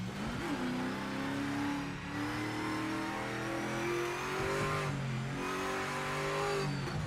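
Hypercar engine in the Project Motor Racing game drones and revs continuously, its pitch rising and dipping with gear changes, loud and close with no talking.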